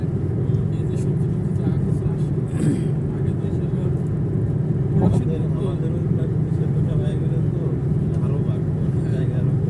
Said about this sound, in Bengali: গাড়ি চালাইতেছি আর ভিডিও করতেছি